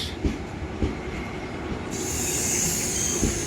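A train arrives at Paramakudi railway station. The rolling wheels clatter in repeated thumps over the rail joints, a high squeal of the wheels rises midway, and the sound is close and fairly loud with no talking.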